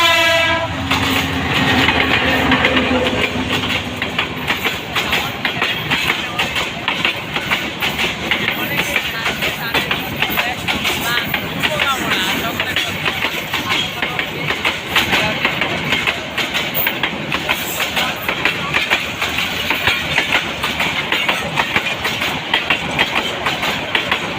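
A train passes along railway tracks near the listener, producing a loud continuous rumble and rattling clatter of wagons throughout, with a horn-like tone at the start and people talking beneath the noise.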